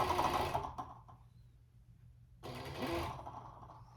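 A sewing machine stitches fleece along a curved seam while a qaspeq is being assembled, running in two steady motor bursts separated by a short pause.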